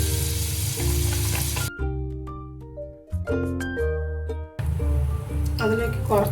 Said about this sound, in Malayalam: അതിൻ്റെ കൂടെ സൺഫ്ലവർ ഓയിലും കൂടി ഇട്ട് കൊടുക്കുക. ഇതൊന്ന് പനീർ നമ്മൾ ഒന്ന് ഫ്രൈ ചെയ്തെടുക്കുക.